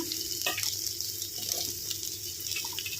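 Chopped onions go into a pan of frying okra, giving a steady broadband sizzle with a faint clink near the start, close and continuous with no talking.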